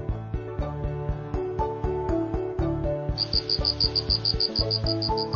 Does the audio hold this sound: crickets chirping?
yes